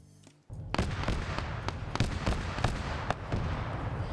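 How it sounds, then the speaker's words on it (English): Rapid heavy bursts of autocannon fire in an Arma PvP battle, sharp repeated booming shots in an irregular rhythm, loud and alone after a brief quiet start. "You got the autocannon pre-firing up this route"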